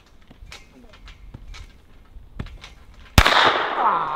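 A single sharp gunshot from a Trailblazer .22 long rifle, loud and close, followed by a lingering ringing tail, after quieter clicks and footsteps outdoors.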